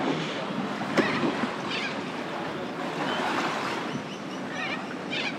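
Ocean surf rolls in at Little Beach in Port Stephens, Australia, a steady broadband wash of breaking waves with wind buffeting the microphone, continuous and fairly close with no talking.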